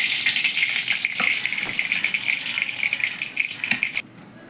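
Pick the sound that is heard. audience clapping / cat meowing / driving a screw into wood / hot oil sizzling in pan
hot oil sizzling in pan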